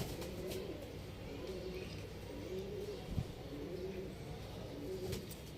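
Golden pigeons coo softly and repeatedly in low, rhythmic phrases, moderately near, over a steady background hum with a brief knock midway.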